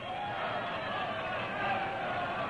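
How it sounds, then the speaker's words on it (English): A wrestling match crowd roars in a steady, dense wash of cheering that holds at an even level for the whole stretch, with no single voice standing out. "And the crowd goes wild."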